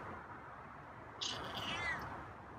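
A feral cat waiting at a door gives a single drawn-out meow partway through, close but not loud, over a quiet indoor background hiss.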